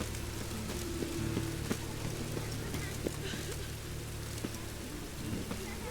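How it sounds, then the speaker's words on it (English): Steady rain with occasional distant thunder rumbles in the video game The Witcher 3, a continuous loud wash of downpour with faint voices now and then. "It just rains and rains."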